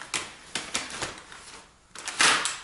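A compact stroller buggy is released with a push button on its back and folds shut, giving a series of close plastic and metal clicks and clunks, followed by a louder rattling clack.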